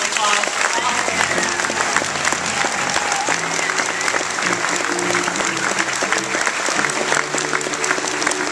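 Sustained applause from an audience at a Nashville business awards event honoring a Forty Under 40 group in 2010, a dense, steady clapping that fills the room without pause for the whole stretch.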